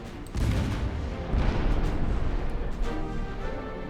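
Naval battle in the Ultimate Admiral Dreadnoughts game, with battleship guns firing as a rolling series of heavy booms and rumbling blasts that layer over each other throughout, loud and continuous, without speech.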